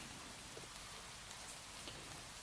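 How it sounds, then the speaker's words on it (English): Steady rain falls as a soft, continuous hiss of drops on a surface, faint and even throughout with no voices. "Let's change the background sound. We're going to change it from rain."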